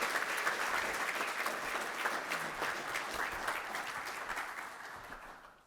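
An audience applauds to welcome presenters at a university business competition evening, giving steady, dense clapping that gradually fades out.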